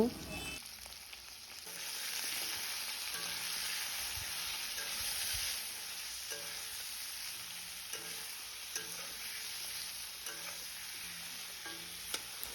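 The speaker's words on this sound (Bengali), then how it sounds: "সবজিতে নিয়েছি গাটি কচু আলু পটল টমেটো আর বেগুন তো সবগুলো দেওয়ার পর নুন হলুদ দিয়ে ভেজে নেব" Mixed vegetables of taro, potato, pointed gourd, tomato and eggplant frying in oil with salt and turmeric, a soft continuous sizzle close by with occasional stirring clicks of a utensil in the pan.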